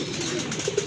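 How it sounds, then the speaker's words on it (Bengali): A pigeon coos briefly, a soft low double coo near the end of a short stretch of steady bird-market background noise. "এখানে কিন্তু আরেক জোড়া কবুতর আছে ভাই"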